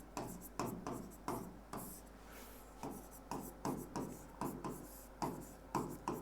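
Pen strokes scratch across paper during a Hindi polity lesson, coming in short, regular bursts with brief gaps between them. They sound close and quiet, with no talk over them.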